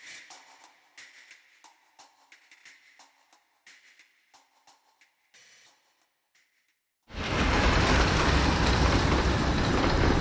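A miniature railway train in the Eskdale valley of the Lake District, Cumbria, rumbles past loudly and close in a steady wash of noise that starts abruptly and holds to the end, following quieter stretches of light, intermittent outdoor sounds.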